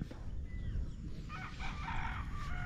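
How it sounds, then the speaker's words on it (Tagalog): Chickens at a seaside poultry farm in Talisay, with crowing and clucking calls rising over steady outdoor background noise, moderately close and busier in the second half. "Yun oh, ang daming manok pa."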